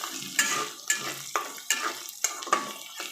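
Onions frying in a pan with two cinnamon sticks and four cardamom pods, a rhythmic series of spoon scrapes and clinks against the pan about every half second over a low sizzle, close by.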